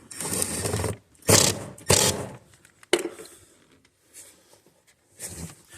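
Bursts of ratchet clicking in short spurts with pauses between, close by, tightening the oil filter on a 2015 Chrysler Town and Country 3.6, followed by quieter scraping and clicks from tools.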